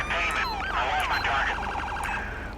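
A police car siren from GTA V with the LSPDFR mod wails in rising and falling sweeps, loud and close, with a steady low rumble underneath.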